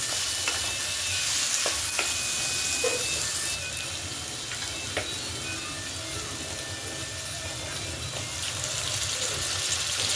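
Steady sizzling and crackling of potatoes frying in a pan, with occasional stirring clinks and scrapes, fairly close and continuous throughout.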